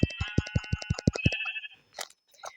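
A sheep in the video game Minecraft bleats in a quick, even run of about nine short calls as it is repeatedly tapped, followed by a few sparse clicks and rustles.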